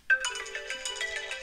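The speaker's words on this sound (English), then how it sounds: "It continues to buzz until you pull out the phone." An iPhone rings inside an Apple leather sleeve, giving a clear melodic ringtone with a bright, pulsing pattern that repeats steadily, close and alone.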